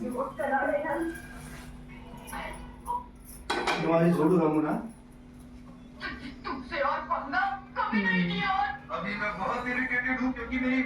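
A boiled egg omelet is moved from a pan into a bowl, with metal utensils clinking and scraping against the cookware in short bursts while a voice talks alongside.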